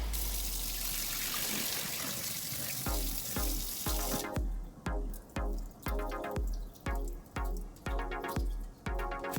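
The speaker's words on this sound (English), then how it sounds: "I'm just washing the rice and then soak it" Tap water runs steadily into a pot as rice is washed for Ghanaian jollof, then gives way to a rhythmic series of sloshing swishes and drips as the grains are swirled and rinsed, close and fairly loud.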